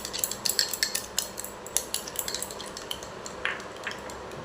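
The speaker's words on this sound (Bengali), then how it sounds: "আমি একটা অন্য পাত্রে দইটাকে ফেটিয়ে নেব।" Yogurt is whisked in a bowl with quick, rhythmic scraping and tapping strokes of a utensil against the dish, close by and moderately loud, then slowing toward the end, with no speech.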